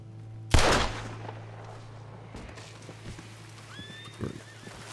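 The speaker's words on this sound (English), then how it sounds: "I think the horse just took off too" A horse in the Red Dead Redemption 2 video game bolts off, a loud whinny up front giving way to hoofbeats that fade into the distance, with a short sharp burst partway through.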